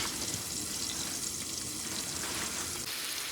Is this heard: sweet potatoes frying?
yes